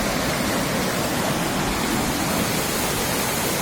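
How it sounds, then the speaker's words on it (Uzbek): The Shohimardon mountain stream gushes in a dense, steady roar of rushing water that stays close and even from start to finish, with no voices over it. "Sharqirab oqayotgan Shohimardon"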